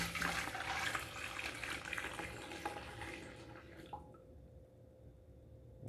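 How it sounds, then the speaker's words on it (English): Ice-cold water pours into a brine mix in a steady, close rushing splash that cuts off after about four seconds, leaving near silence. "So the first thing that we're gonna do is put in our ice cold water."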